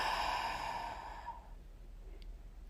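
A slow breathy exhale fades out over about a second and a half during a guided breathing exercise, fairly close and soft, followed by quiet room tone.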